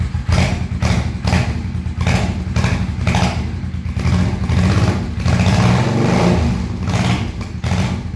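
A cold Honda Shadow VT500 motorcycle engine idles close by with a little choke, giving a steady run of rhythmic thumping pulses under a low rumble, without speech.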